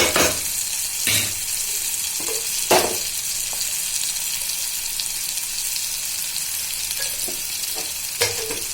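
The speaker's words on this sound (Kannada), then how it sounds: "ಅದನ್ನು ಸಣ್ಣ ಉರಿಯಲ್ಲಿ ಸ್ವಲ್ಪ ಎಣ್ಣೆಯಲ್ಲೇ ಬೇಯಿಸ್ಬೇಕ್ರಿ" Food frying in a little oil over a low flame, a steady close sizzle running throughout with a few sharper scraping stirs at intervals.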